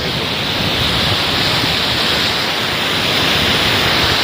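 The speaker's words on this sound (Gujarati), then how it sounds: "અને આ એક મસ્ત ધોધ પડે છે" Waterfall on a farm, the falling water giving a loud, steady broadband roar that holds unbroken through the whole stretch with no voices over it.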